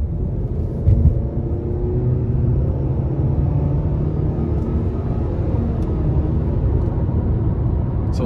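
A 2024 Nissan Sentra SV with a 2.0-litre four-cylinder accelerates onto the interstate, giving a steady, loud low rumble of engine and road noise heard from inside the cabin, with no talk.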